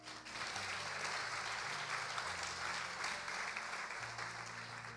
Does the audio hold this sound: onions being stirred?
no